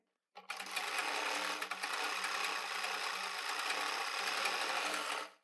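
A sewing machine runs steadily for about five seconds, stitching a round neckline on fabric, with a brief dip near the start and a constant close whirring hum, no voices.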